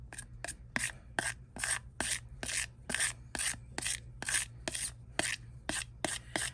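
Scissors rasp across the top of a plastic Dollar Tree phone case in quick repeated strokes, each scratch a short bright scrape in a steady back-and-forth rhythm, close and quiet with no talking.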